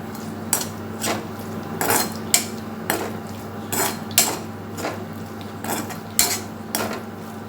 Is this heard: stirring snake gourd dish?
yes